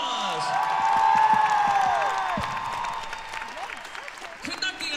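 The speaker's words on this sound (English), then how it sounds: "Give them a huge round of applause!" Concert crowd at a Christmas show in Manchester applauds and cheers for local string players, dense clapping with whoops, while sustained instrument tones ring underneath and a voice is heard near the end.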